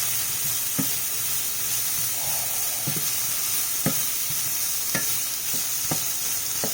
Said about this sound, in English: I'm gonna cook the shrimp real quick